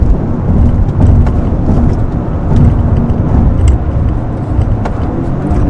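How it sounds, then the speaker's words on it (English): A Toyota GR Corolla driving on a track, its engine and road noise filling the cabin with a loud, continuous rumble that swells and eases as it downshifts through turns. "This car gonna be a beast on the track, man."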